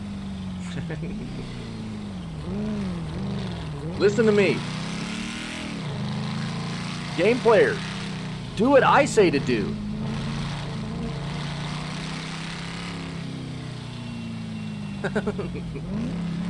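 A small Smart car driving in a video game gives off a steady low engine drone that runs the whole time beneath someone talking over it.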